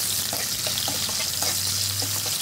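Rice is frying in a pan with diced potatoes and carrots, a steady close sizzle with occasional stirring clinks and scrapes, alone with no talk, plus a low steady hum underneath.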